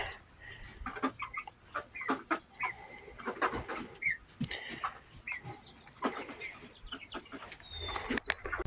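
Chickens cluck and murmur softly close by, irregular short calls over a low outdoor background with occasional scratching noises.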